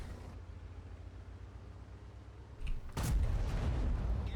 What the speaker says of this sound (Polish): Ten pierwszy strzał nie był celny?